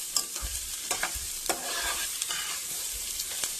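Onions and garlic sautéing in a pan, a continuous close sizzle broken by frequent stirring clacks and scrapes of a spatula against the metal.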